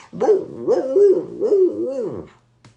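A voice actor imitates Hundley, the small dog from Curious George, with a close, loud series of four or five yappy, hooting bark sounds in a rising and falling rhythm.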